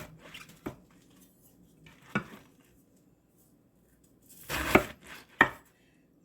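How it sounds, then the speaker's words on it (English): A knife chops ham and turkey for an Italian sub salad. A few sparse, separate knocks land on a cutting board, then a louder cluster of strikes follows near the end in an otherwise quiet kitchen. "But I'm just going to chop it this way."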